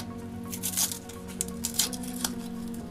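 A small paper surprise packet is handled and torn open during a paper battleship game, giving a few crisp crinkles and rustles over faint background hum, with no talking.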